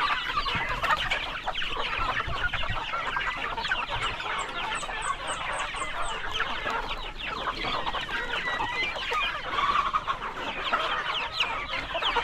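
Chickens and chicks on a farm, a dense, continuous chorus of clucking and high peeping up close, with steady chatter from the flock throughout.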